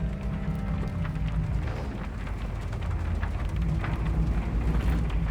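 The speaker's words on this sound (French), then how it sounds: "J'aime pas cette tempête." A steady storm rumbles in the Shadow of the Tomb Raider video game, with dense rain hissing continuously and low thunder rolling beneath it, loud and unbroken.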